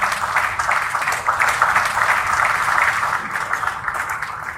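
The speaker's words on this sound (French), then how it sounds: "Accueillons-le par des applaudissements." Audience applause at a conference, a steady dense wash of clapping from a large crowd that fills the whole stretch without pause, fairly loud and close.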